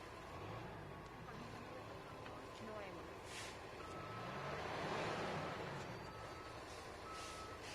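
Reversing beeps from a truck at an outdoor press conference in East Boston, a steady repeating tone over constant traffic rumble and low engine noise, with people talking faintly in the background.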